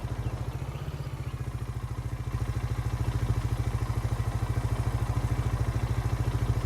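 A buggy engine in Farming Simulator 19 drones steadily uphill with a fast, even low throb and rattling clatter, close and continuous, growing slightly louder midway.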